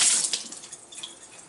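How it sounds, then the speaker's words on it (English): Hands rinsed under a running kitchen tap while making homemade hummus, a bright splashing water burst that is loudest at the start and then eases into a softer steady trickle, with no voices. "wash my hand, rinse my hand a little bit."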